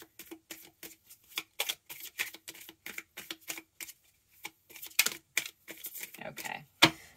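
Tarot cards being shuffled by hand, a rapid series of crisp riffling and slapping bursts close to the microphone, ending in a sharper snap.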